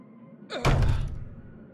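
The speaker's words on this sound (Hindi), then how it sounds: "Maybe impossible, but I try to kick down the door." A single heavy wooden door being kicked in the horror game Lurk in the Dark, heard as one loud close thud with a rattling, resonant decay that fades over about a second.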